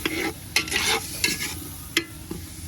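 Food sizzles in margarine in a hot pan while a utensil stirs and scrapes, producing several sharp scraping strokes over a continuous frying hiss.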